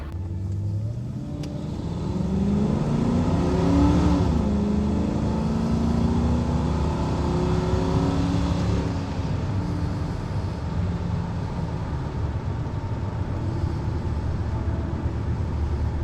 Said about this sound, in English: pulled up in his car